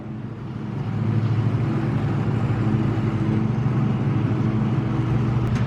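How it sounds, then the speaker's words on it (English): Lawnmowers drone steadily in the background on a residential lawn, a continuous mid-pitched engine hum that holds at an even level throughout, with no talk. "Sorry if y'all can hear the lawnmowers in the background."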